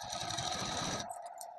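A sewing machine stitches a sleeve onto a suit, running with a steady, close whirring hum for about a second before stopping, leaving only faint light clicks.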